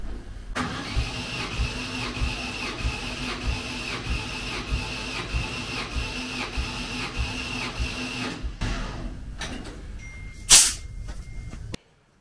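An engine cranks over steadily on its starter with a new battery fitted, a rapid, rhythmic chugging for several seconds, slightly slow to turn over, then cuts off, followed by a brief sharp noise.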